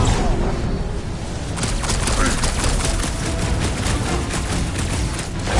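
Gunfire in the Guardians of the Galaxy video game, a loud, rapid stream of repeated shots with booming thuds, mixed with game effects and voices.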